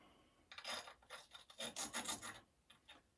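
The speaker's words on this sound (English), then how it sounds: "you need to sand off these edges so they're not sharp" A worn sharpening stone scrapes along the edges of ceramic tiles for a mosaic table top, a series of short rasping strokes in quick rhythm, close and fairly quiet, with no talking.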